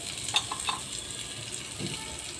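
A sprouted moong mixture with coconut, green chilli, tamarind and cumin is stirred in a pan, giving a faint, soft sizzle with a few light scraping strokes and no voices.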